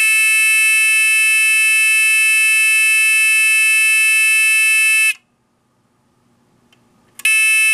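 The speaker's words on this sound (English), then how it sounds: "the buzzer's working" A loud, steady electronic buzz from a Titan II missile silo blast door control panel drones for about five seconds, cuts to near silence, then starts again abruptly at full volume.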